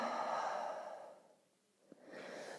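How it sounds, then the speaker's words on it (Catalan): Slow breathing during a yoga session, a long audible exhale fading away into near silence, then a short sharp intake and the start of another breath, close and soft. "Inhala i exhala."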